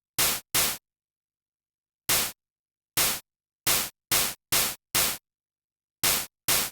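Harsh white-noise bursts from self-oscillating ring modulation on a Roland SP-404 MK2 sampler, about eleven short hissing blasts fired in an uneven rhythm with dead silence between them.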